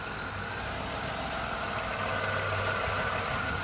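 A 1986 Oldsmobile 98 Regency's pre-balance-shaft 3.8-liter engine idling, a steady low rumble with a constant mechanical hum, close and unbroken throughout.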